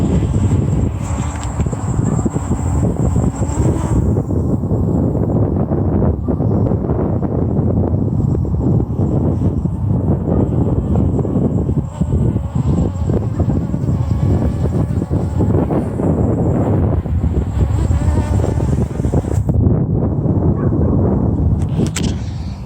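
Strong wind roars steadily and loudly across an outdoor field while an AEE Sparrow 2 drone flies, a dense buffeting rumble that never lets up.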